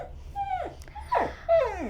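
A dog whines in three high, drawn-out whimpers that slide downward, close and fairly loud against a quiet background.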